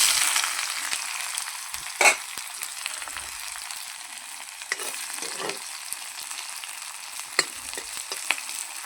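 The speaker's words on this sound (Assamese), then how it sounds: "তেল গৰম হৈ গ'ল, এতিয়া পিঁয়াজ দি দিওঁ।" Onions frying in hot oil in a kadai, a steady close sizzle with occasional stirring clatters and scrapes, no talking.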